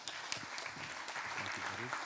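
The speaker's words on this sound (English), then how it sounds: "So please give him a round of applause" Applause for a keynote speaker at a fashion summit in Copenhagen, a broad wash of clapping that runs steady for about two seconds with talk layered over it.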